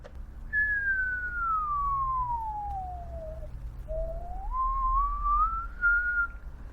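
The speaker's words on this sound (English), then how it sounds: "Forgive my awful whistling." A person whistles a single clear tone that glides slowly downward, breaks briefly, then climbs back up, heard alone at moderate loudness.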